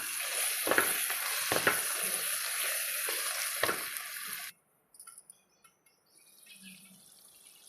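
Chicken curry fries in a pan, a bright steady sizzle with several sharp stirring scrapes, close up, before it cuts to near silence and a few faint clinks.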